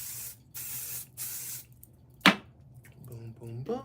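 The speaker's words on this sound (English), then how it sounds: "I just hit it with a little spray" A handheld spray bottle mists hair during a silk press, giving three short close hissing sprays in a quick rhythm, followed by a sharp click and faint voice sounds.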